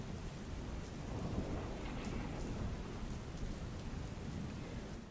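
Heavy rain pours steadily on Gomtipur, Ahmedabad, amid waterlogging, in a dense, unbroken roar with no voices, the downpour close and constant throughout.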